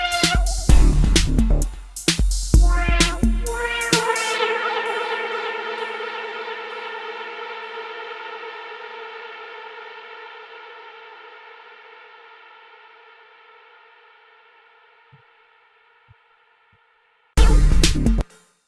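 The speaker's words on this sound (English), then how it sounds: "I've got a little delay happening there, and then it fades off, and the reverb carries on" A few struck tones with delay repeats give way to a long reverb tail that slowly fades to near silence over about twelve seconds, before a loud burst returns at the end.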